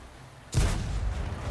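A tank cannon fires once in the World of Tanks video game, with a sudden loud blast followed by a sustained low rumble that carries on to the end.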